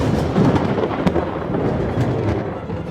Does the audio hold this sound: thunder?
yes